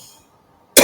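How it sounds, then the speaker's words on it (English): A single sharp, loud cough bursts in near the end after a near-silent pause, close to the listener. "She has to cough because it's so nasty"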